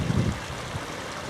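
Water from an overflowing fishing lake pouring into a canal outdoors, a continuous rushing wash with a low rumbling thump at the start, moderately loud and steady, with no voices.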